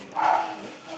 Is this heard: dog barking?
yes